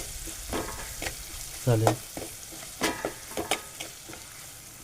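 Onion frying in a pan with a pinch of salt, stirred a few times: short scraping strokes and soft crackling sizzle come in bursts, with brief spoken words and a louder clatter partway through.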